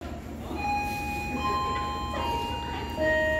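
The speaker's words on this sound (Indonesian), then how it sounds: "Langsung saja, kita akan naik kereta api Serayunya." A Serayu passenger train at Tasikmalaya station gives a steady rumble with faint ticking and high tonal squeals or hums drifting in and out, sustained and fairly close throughout.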